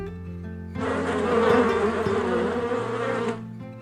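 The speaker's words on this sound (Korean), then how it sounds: "벌통 주변에서 수백만 마리의 꿀벌이 요란한" Swarm of honeybees buzzing loudly around a row of beehives at a hillside apiery in Ganghwa, Incheon, a dense steady drone rising abruptly, holding for a few seconds, then cutting away.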